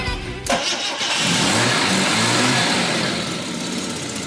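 Carbureted Volvo 164 with a B30 engine cranking and firing up, a short starter whir followed by a loud, steady, slightly rough idle close by.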